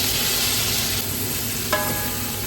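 Meat frying in hot oil with garlic and onion in a pan gives a steady loud sizzle, with a brief clink of a utensil near the end and no talking.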